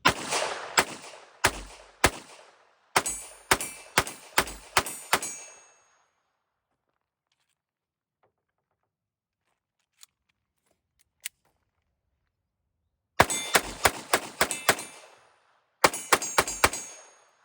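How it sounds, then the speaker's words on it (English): A Walther PPK pistol chambered in .22 Long Rifle fires standard CCI Mini-Mag rounds in rapid strings of sharp, loud cracks, followed by a long quiet gap with a couple of faint clinks, then two more quick bursts of shots. "First shots out of that Walther PPK chambered in 22 long rifle, just standard CCI mini mags."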